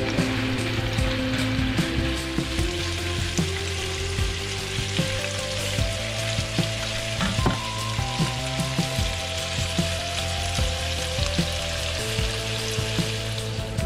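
Rice for Filipino fried rice fries and crisps in a pan, a steady, close sizzle broken by crackles and the scrape and clink of stirring, with no talk.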